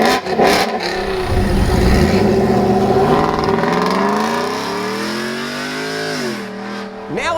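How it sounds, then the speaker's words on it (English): Ford F-150 pickup with 1 7/8 inch headers, catted pipes and a Corsa Extreme catback exhaust, revving loudly up and down close by, with a deep, throaty exhaust note that swells and falls in smooth sweeps. "this truck already sounds really good with some exhaust upgrades that we did from Cook's headers"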